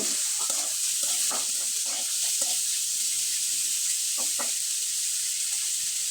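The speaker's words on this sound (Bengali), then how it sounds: "প্রথমে গাজর কুচি এবং টমেটো কুচিটা দিয়ে দিব খুব ভালোভাবে নেড়ে চেড়ে নিব" Chopped carrot and tomato stir-fried for homemade rice noodles, a steady close sizzle under a broad hiss, with scattered scraping spatula strokes in short bursts early on and again near the end.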